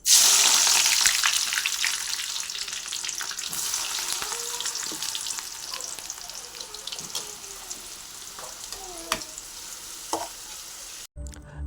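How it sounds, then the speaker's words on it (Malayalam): Sliced onions frying in hot oil for biryani give a loud, crackling sizzle that eases slightly over time, dotted with clinks of a stirring utensil. "നമ്മുടെ സവാള വറുക്കാനുള്ള ഇത് ചൂടായിരിക്കണം നമുക്ക് ഇട്ട് കൊടുക്കാം"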